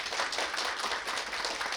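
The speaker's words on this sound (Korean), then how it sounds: "다시 한번 박수 한번 보내드릴까요?" Sustained audience applause at a 2019 media and information literacy conference, with dense steady clapping filling the room and no voices on top.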